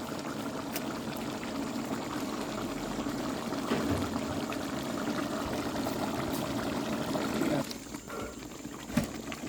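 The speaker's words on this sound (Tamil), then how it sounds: "நம்ம அரை செம்பு தான் தண்ணி ஊற்றணும்" Water pours into a pot of Dindigul biryani masala with a soft, continuous gurgling splash, fairly quiet, ending with a few faint clinks.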